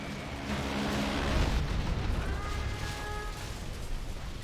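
Bombs from an airstrike with a MOAB and A-10s pound an enemy base in C&C Generals Zero Hour, making a deep rolling explosive rumble that swells and slowly fades.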